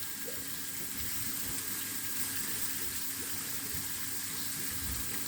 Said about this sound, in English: this is my pressure pump installation